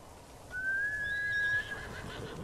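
A single whinny from a white horse in the video game Ghost of Tsushima rings out, high and drawn out for about a second, over a quiet background.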